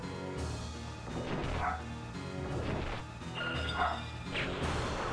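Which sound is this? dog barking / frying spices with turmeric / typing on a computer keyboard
dog barking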